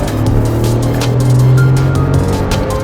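A Datsun Go and a Suzuki S-Presso launching in a quarter-mile drag race, their budget-car engines droning loudly and steadily with a held tone that rises slightly before easing, close and continuous with rhythmic mechanical pulses.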